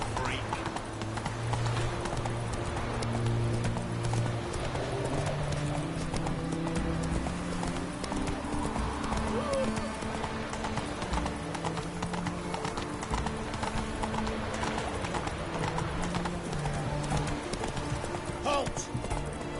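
Hooves of Roach, the horse in the Witcher 3 video game, clip-clop in a steady gallop throughout, set against game music and voices talking.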